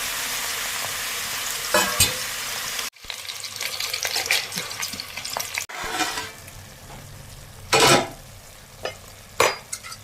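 Potato, onion and tomato fry in coconut oil with loud, steady sizzling, broken by several sharp scraping stirs and clatters of a spoon against the pan.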